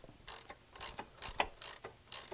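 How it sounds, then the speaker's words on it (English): A mounting nut being tightened with a 17 mm wrench makes faint, close creaking and ratcheting clicks in a steady rhythm of short strokes, with no talk. "now I'm going to reinstall the mounting nut. I need a 17 millimeter wrench."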